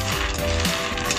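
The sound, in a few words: peanuts roasting in a large pan on high heat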